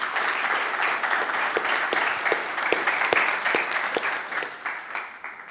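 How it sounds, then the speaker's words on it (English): An audience claps in steady applause for the affirmative debate team at a children's rights debate event, a dense, even patter of many hands lasting several seconds with a faint voice beneath. "applause for them."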